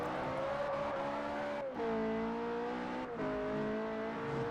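A Ferrari F40 racing in the PC video game Forza Horizon: a high, strained engine note climbs steadily, dips briefly at two gear changes, then rises again, staying loud and close the whole time.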